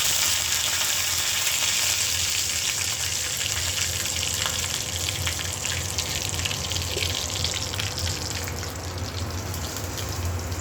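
Curry leaves tempering in hot oil for white chutney, a loud, continuous sizzle and crackle close by, with faint stirring and no talk.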